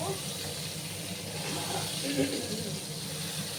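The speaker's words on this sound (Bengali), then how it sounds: "একটু লাল লাল করে আমি পটলগুলোকে ভেজে নেব" Pieces of pointed gourd (potol) fry in oil with a steady, soft, continuous hiss and faint crackle, with a voice talking over it.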